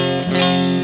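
Electric guitar played through a Tube Screamer overdrive pedal, a single sustained chord ringing out with warm, mildly saturated distortion and some bright chime, close and loud with no talking.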